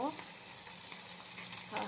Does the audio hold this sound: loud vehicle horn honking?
no